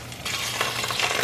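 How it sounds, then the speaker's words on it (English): Three Italian sausages crackle and sizzle in duck fat in a pan over medium-high heat, a steady hiss that starts abruptly and continues close by, with small pops throughout. "You can hear it sizzling."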